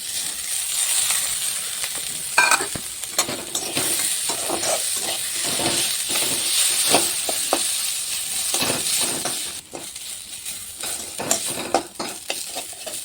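Washed rice stirred into fried onions and peanuts in a hot pan, giving a continuous oily sizzle broken by repeated scraping stirs, close and fairly loud, with no talking.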